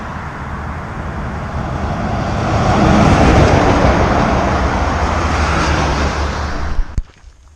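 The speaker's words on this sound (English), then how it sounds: "This is more like the traffic that we've seen coming across" Road traffic on the Portuguese Way pilgrim route between Coimbra and Albergaria-a-Nova, a steady broadband roar that swells as vehicles pass close, then ends with a sharp knock and fade.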